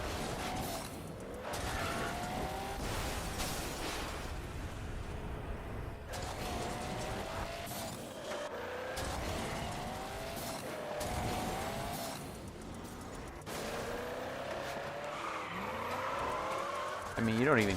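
Cars race through the video game MotorStorm Apocalypse with engines roaring, revving and whining through pitch sweeps and tires skidding, loud and continuous over a dense game soundtrack, with bursts of impact noise.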